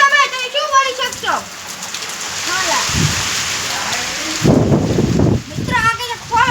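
Heavy rain pours outdoors as a steady broadband hiss with wind buffeting the microphone. Voices talk over it at the start and end, and the downpour swells louder in the middle.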